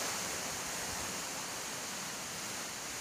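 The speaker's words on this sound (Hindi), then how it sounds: "तो अब ये जो पानी गिर रहा है" Water pours down into a small stream in the cave garden at Cherrapunji, Meghalaya, making a steady, continuous rushing hiss that stays even and close throughout, with no voices.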